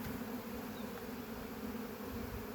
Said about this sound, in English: I see bees flying around that tree up there.